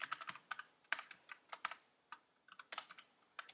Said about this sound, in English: it's the typing of the keyboard